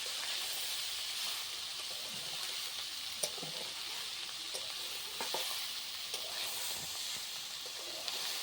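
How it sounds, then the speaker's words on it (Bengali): Meat sizzles continuously in a hot pan, a steady hiss with occasional soft spatters and stirring scrapes. "আগে মাংসটাকে দেখো ভেজে দিচ্ছি ভালো করে"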